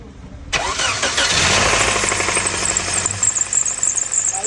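A car engine cranks and fires up from silence, then settles into a loud, rough idle with a steady rapid knocking running through it, close by.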